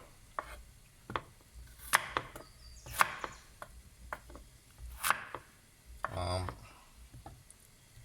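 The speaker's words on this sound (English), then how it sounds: "Slice your potatoes like that" A knife slices potatoes on a board for oven-roasted vegetables, a series of sharp, separate cuts spaced irregularly, with one longer scraping stroke near the end, close and moderately loud.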